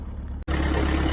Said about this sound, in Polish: Mamy odpalony silnik.